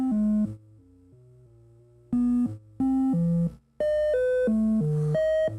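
A slowed Eurorack Marbles module steps through a sequence of pitched synth beeps, moderately loud and near, with a few short gaps between clusters of notes.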